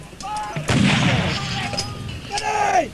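A light artillery gun fires during a Canadian military training exercise at Wainwright training area in Alberta, a single loud boom with a rolling tail, heard through background talk and outdoor noise.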